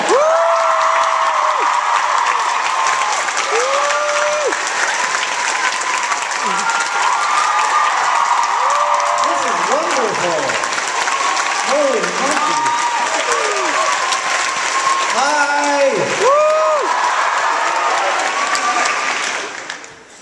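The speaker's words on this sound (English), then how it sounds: "Everybody stopped clapping at the same time." A theatre audience at a live London show claps and cheers loudly and continuously, then the applause cuts off almost together at the end, while a voice speaks briefly over the noise.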